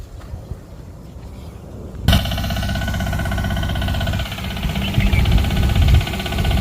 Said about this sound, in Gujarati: હવે તમને થોડુંક ટ્રેક્ટર હાલે બતાવી